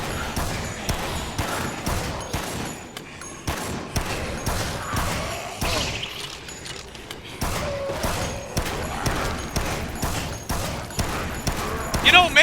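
Gunfire in the zombie video game Dead Rising: rapid, regular shots crack one after another in a steady burst, with someone talking at times beneath the shooting.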